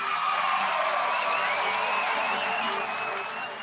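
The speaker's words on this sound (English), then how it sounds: "Let's give him a warm round of applause and cheer." Warm audience applause with cheering for a birthday during a community breathwork session, a dense continuous wash of clapping that holds steady, then slowly fades at the end.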